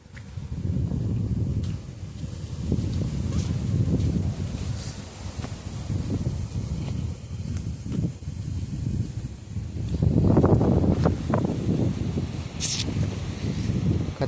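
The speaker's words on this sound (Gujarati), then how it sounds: "વાયરો પણ જોરદાર છે અને વાતાવરણ પણ ખતરનાક છે." Strong wind roars outdoors in stormy rainy weather, loud gusty rushing that swells and fades in waves, with occasional rustles and no talk.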